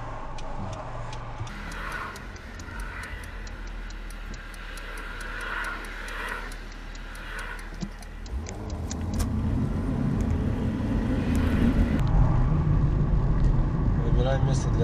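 Driving school car in Khabarovsk pulling away from a stop, engine rumble rising and road noise building steadily, with an instructor's voice and a ticking indicator heard over it.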